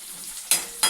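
Onions and green chillies sautéing in a pan, a soft steady sizzle broken by two sharp scraping stirs close by.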